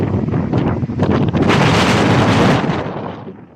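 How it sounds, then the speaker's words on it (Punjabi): Strong wind blows outdoors, buffeting loudly and continuously with rumbling gusts that swell, then ease slightly toward the end. "ਹਵਾ ਬਹੁਤ ਚੱਲ ਰਹੀ ਹੈ"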